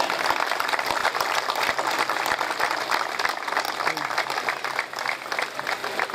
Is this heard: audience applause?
yes